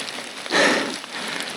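Steady rain falls during a mountain bike ride up a high mountain road in Taiwan, an even hiss that swells briefly in the middle, with no voices.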